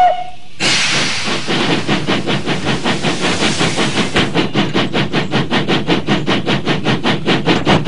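Steam locomotive engine giving a loud, steady hiss of escaping steam that settles into rhythmic chuffing pulses as it gets under way, close and with no talking.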